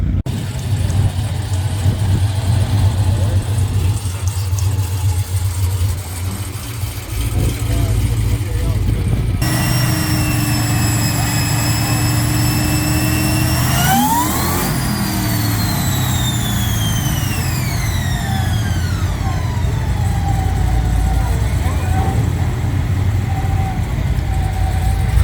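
Car engine running on a dyno at Power Tour 2023, idling low then revving hard through rising pitch sweeps before winding down, loud and close, with people talking at the start.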